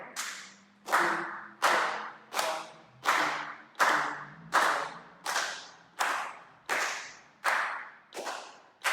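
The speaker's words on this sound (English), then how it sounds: "We can just clap like this together." A group claps hands together in a steady rhythm during a percussion workshop, with about a dozen sharp, evenly spaced claps, close and loud, with no talking over them.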